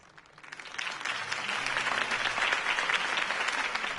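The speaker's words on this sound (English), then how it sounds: "If only Mr. Wayne, my campaign's largest backer, could have heard that applause" Steady crowd applause in Batman: The Telltale Series swells in after a quiet start and keeps going at full strength, a dense wash of clapping with no talk over it.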